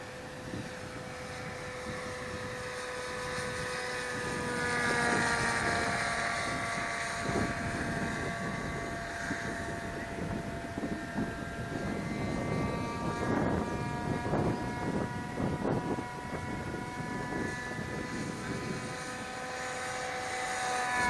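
Engine and propeller of an RC AeroSport 103 ultralight model plane flying in nice weather: a loud, steady high-revving drone with a strong harmonic whine that swells and eases slightly as it passes, with no voices.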